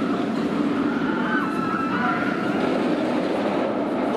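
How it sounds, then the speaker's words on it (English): The Dragon Khan roller coaster at PortAventura thunders through its Cobra Roll in a continuous, loud metallic roar with rumbling wheels and faint screeching, sustained without a break. "listen to the roar as it comes through the Cobra Roll."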